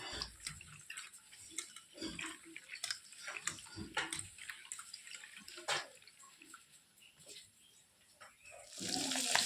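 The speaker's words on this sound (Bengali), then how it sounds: "ভালো করে এগুলোকে ওয়াশ করে নিই। এগুলোকে ভালো করে সুন্দর করে ধুয়ে সাইডে রেখে দেবো।" Small puti fish being rinsed under a running tap in a kitchen, with steady splashing water and scattered handling knocks throughout, growing louder near the end; no one speaks.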